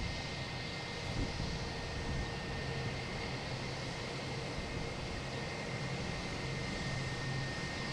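A JetBlue E320 airliner in JetBlue Vacations livery, arriving from San Juan at Boston's Logan Airport, makes a steady, loud engine roar and broadband rush that holds evenly throughout with no talk.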